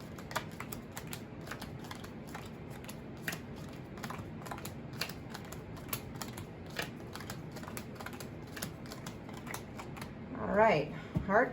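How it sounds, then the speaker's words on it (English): A deck of playing cards is shuffled one card at a time, giving a steady stream of soft, quick ticks and flicks up close, ending in a louder riffle, while a voice speaks quietly underneath. "Single card shuffle."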